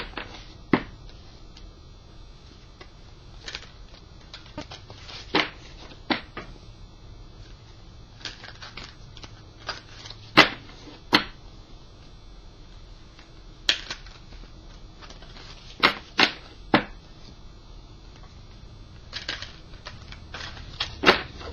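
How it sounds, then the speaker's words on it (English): Soft, irregular riffling and snapping of cards being shuffled, with sharp clicks scattered throughout a quiet, muted background. "as I'm shuffling the deck here"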